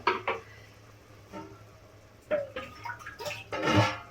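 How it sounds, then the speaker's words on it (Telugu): Water splashes and pours into a pot in short bursts, building to a louder gush near the end over faint background hum. "చూడండి కొంచెం వాటర్ యాడ్ చేసుకుంటున్నాను నేను"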